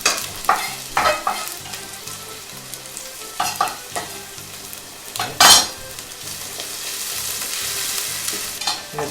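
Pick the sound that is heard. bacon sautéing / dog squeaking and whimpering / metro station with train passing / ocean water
bacon sautéing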